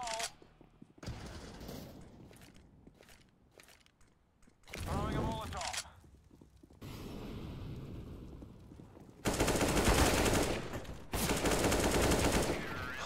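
Auto sniper rifle fire in Counter-Strike: Global Offensive on the Mirage map during a 3-versus-5 competitive round, loud bursts of rapid shots in clusters with quieter gaps and game sounds between, no speech over the shots.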